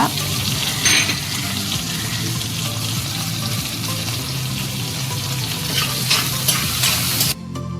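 Onions, tomato and curry leaves sautéing for fish curry, a loud continuous sizzle under repeated stirring and scraping in the pan, ending in a sudden cut.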